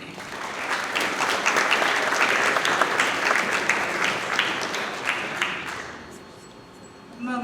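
An audience at a National Honor Society and National Technical Honor Society induction ceremony claps loudly and steadily for about six seconds before the applause fades out.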